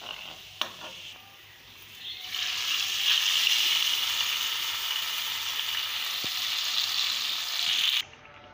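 Hot oil tempering of onion, cumin and garlic with dried fenugreek leaves added, a steady close sizzle that swells and holds for several seconds with faint stirring, then cuts off.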